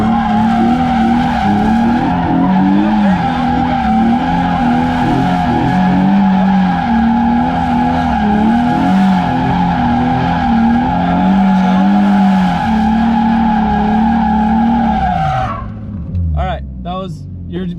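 A BMW E36 Formula Drift car spins a tight donut, its engine droning loud and steady under a long continuous tire squeal that holds close before cutting off near the end.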